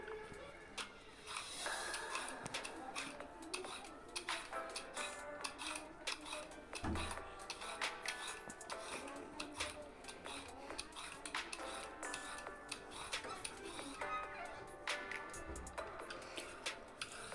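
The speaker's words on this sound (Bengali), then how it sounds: "এবার গাজরগুলোকে আমি একটা একটা করে ছিলে নেবো" A kilogram of carrots peeled one at a time for a dhaba-style gajar halwa, giving steady close scraping strokes with light clinks of kitchen utensils throughout.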